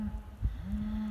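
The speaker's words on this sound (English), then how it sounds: "There's that cow mooing again." Cow on a cattle farm in winter lowing twice, a short low moo then a longer sustained one, moderately close over a faint outdoor background.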